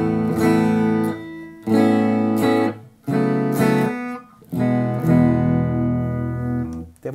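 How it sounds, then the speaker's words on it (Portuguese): Clean electric Jazzmaster guitar plugged straight into an audio interface running an Amplitube amp simulation, four loud ringing chords or arpeggiated phrases separated by brief gaps, played alone without talk. "aqui é o som da minha guitarra direto na placa de áudio com o amplificador do Amplitube"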